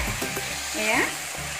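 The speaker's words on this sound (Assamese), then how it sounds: "অলপ সময় মাংসটো লৰাই ভাজি ল'ব লাগিব। কমেও 10 মিনিট ভাজিব লাগিব।" Steady sizzling of pork frying in a pan, with a brief scrape of stirring partway through.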